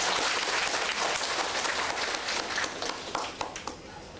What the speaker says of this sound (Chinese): 咱热烈掌声吼